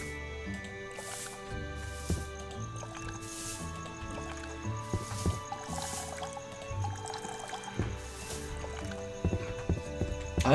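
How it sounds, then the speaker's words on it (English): Crops being watered in a farming game, heard as soft, repeated splashy pours over a bed of steady music-like tones, with small clicks and taps scattered throughout. "Let's water my crops while I'm out here."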